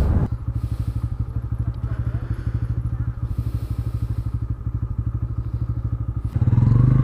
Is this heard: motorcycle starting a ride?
yes